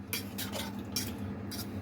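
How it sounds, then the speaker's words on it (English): Meatballs with Italian seasoning are stirred in a pan, producing several quick scraping and clinking strokes in an uneven rhythm over a soft background sizzle. "Right, let's go and mix all these back up."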